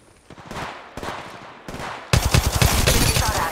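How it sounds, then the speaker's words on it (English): Bursts of automatic gunfire from a firefight in the Apex Legends video game, starting as spaced volleys and swelling into a loud, dense stream of rapid shots in the final second and a half, with no voices. "Getting shot at."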